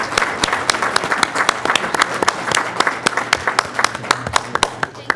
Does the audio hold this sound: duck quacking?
no